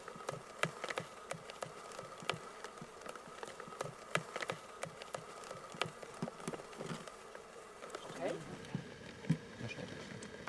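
A steady, low buzzing drone of many bees held in plastic boxes of about a hundred each, close and continuous, with scattered clicks and taps throughout.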